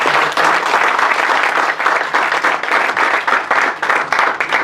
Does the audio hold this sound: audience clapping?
yes